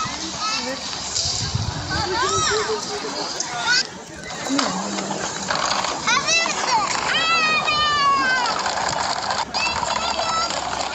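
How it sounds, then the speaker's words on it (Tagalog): Children chatter and play in a busy outdoor lakeside setting at Bolu Lake in Turkey, with high chirpy voices rising repeatedly over a steady bed of crowd noise, splashing water and hoof clops. "Kaya maririnig yung mga bata."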